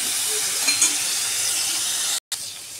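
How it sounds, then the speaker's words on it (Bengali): Paneer shallow frying in oil, a steady close hiss and sizzle that runs unbroken except for one brief dropout near the end. "পনিরটাকে আমি জাস্ট একটু হালকা শ্যালো ফ্রাই করে নিয়েছি"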